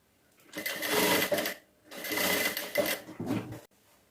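A sewing machine stitches an invisible zip in two sustained runs of close, loud rapid whirring and clatter, separated by a short pause, with a brief third burst at the end.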